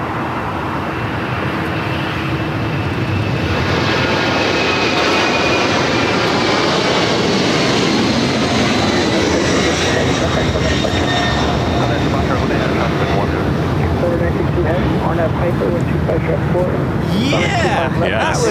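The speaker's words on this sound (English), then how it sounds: "Air China Cargo, 747-400 freighter rolling down at 25 left." An Air China Cargo Boeing 747-400 freighter rolling down the runway at LAX for takeoff, a loud, sustained jet-engine roar that builds and holds, with people talking over it.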